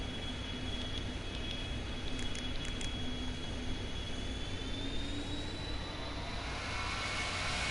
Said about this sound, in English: Federal Express DC-10 lining up on the runway.